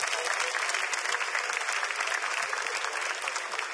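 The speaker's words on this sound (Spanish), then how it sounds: "Un fuerte aplauso para mi amigo," Audience applause at a live comedy show, loud dense clapping sustained evenly from start to finish, close and uninterrupted.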